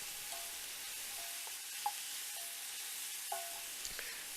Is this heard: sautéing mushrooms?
yes